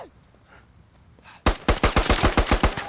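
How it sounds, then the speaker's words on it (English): Automatic rifle fire from an AK in a milsim video game: a sudden, loud burst of about ten rapid close shots in a steady rhythm after a quiet lead-in, with no talk over it. "He's shooting at me, he's shooting at me, he's shooting at me."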